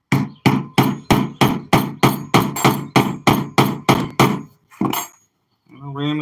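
About fourteen sharp, evenly spaced hammer whacks ram gunpowder into a homemade firework rocket, loud and close, followed by a pause and a brief voice at the end.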